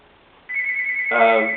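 A mobile phone starts ringing with a steady electronic tone, joined by a fuller ringtone melody, close and fairly loud for about a second.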